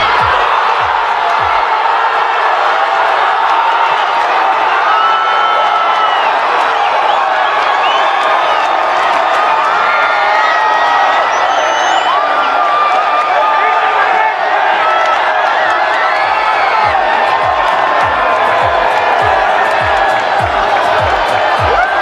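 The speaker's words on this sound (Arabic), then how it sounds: "تشجيع الجماهير المكسيكية للمغرب" Mexican football fans cheer for Morocco in a continuous, dense crowd roar of massed voices, with rhythmic low thumps and claps punctuating the noise near the start and end.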